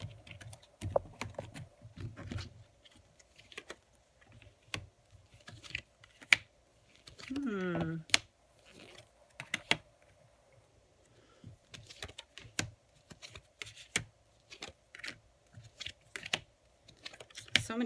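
Tarot cards are shuffled and handled at close range, making irregular soft taps, flicks and riffling clicks in scattered bursts, with a brief swishing stretch partway through.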